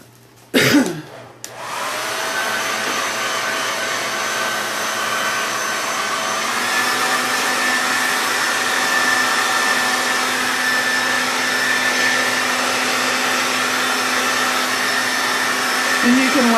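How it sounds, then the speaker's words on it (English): A blow dryer running on its cool setting, a steady close whooshing drone that starts after a brief clatter and holds continuously to the end, with no talk over it. "I'm going to hit it with a blow dryer just to speed up the process"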